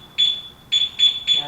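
A Toway motorcycle alarm system set off by its remote sounds a loud, piercing electronic beep: one long tone, then three shorter pulses in quick succession, close by.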